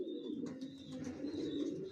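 Purebred racing pigeons cooing, a soft continuous low throaty murmur with faint higher chirps, close but quiet.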